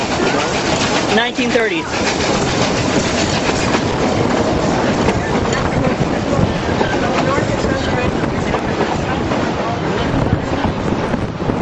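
Passenger car behind a 1930s steam locomotive on the Durango and Silverton railway, with a loud continuous rumble and rattle of the train in motion close by, and someone talking over it.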